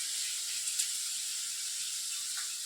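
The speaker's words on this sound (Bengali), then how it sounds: "প্রথমে সরষার তেল দিয়ে পাঁচফোড়ন দিয়েছিল, তারপরে দুটো দুটো পেঁয়াজকে কুচি করে কাটা হয়েছে, সেই দুটো পেঁয়াজকে ভাজা হচ্ছে।" Chopped onions fry in hot mustard oil tempered with panch phoron for a spicy ridge gourd dish, giving a steady, close, airy sizzle with faint crackles and no voices.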